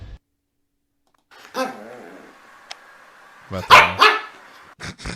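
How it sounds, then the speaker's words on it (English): A dog barking sound effect plays as a few sharp, loud barks with a whimpering yip, close and punchy, beside a brief spoken remark. "that's the sound a dog makes"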